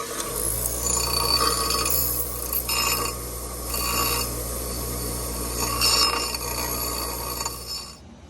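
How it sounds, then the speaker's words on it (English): Angle grinder cutting and grinding the steel frame of a Honda Rancher 350 ES ATV in a workshop: a steady, loud, continuous rasping whine that keeps going for the whole stretch, rising at intervals as the disc bites harder. "Off to the grinder."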